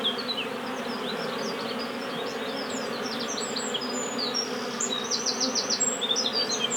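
Honeybees returning to their hive with pollen, in a UK apiary, fill the air with a continuous close buzz, individual bees droning past over the steady hum.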